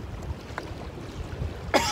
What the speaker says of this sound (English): Got a little cough this morning.